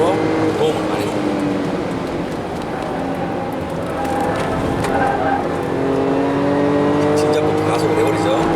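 A Jaguar F-PACE accelerates hard around the Inje race circuit, its engine note rising steadily from inside the cabin as a driver talks over the continuous road and motor roar.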